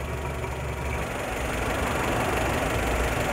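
A Mazda 323 with a 1.6 engine idles smoothly, giving a steady, even, close engine rumble with faint mechanical ticking and no talking.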